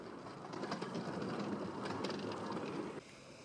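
The Hastings miniature railway train rumbles steadily past with a soft rhythmic clatter of wheels on track, then the noise drops off abruptly near the end.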